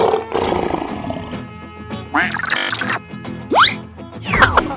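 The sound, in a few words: lion roaring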